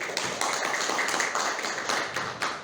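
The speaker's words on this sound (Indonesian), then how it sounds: "Tepuk tangan." An audience at a school principal's handover ceremony breaks into steady applause, a dense, continuous patter of many hands clapping at close range without any voices.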